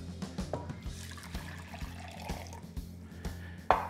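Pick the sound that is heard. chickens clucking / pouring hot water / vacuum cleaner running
pouring hot water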